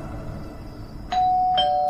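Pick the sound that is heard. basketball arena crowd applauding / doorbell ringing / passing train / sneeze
doorbell ringing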